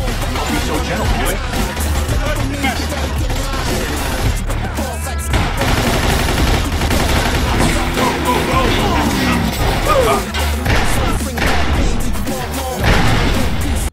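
Gunfire in a shootout in the video game Mafia 2: dense, loud bursts of machine-gun and pistol fire crackle continuously with crashes and bangs, while voices shout over the fusillade.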